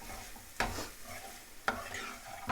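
A spatula stirring banana flower and lentil usili in a pan, two sharp scrapes against the metal over a soft, faint sizzle, with no talking.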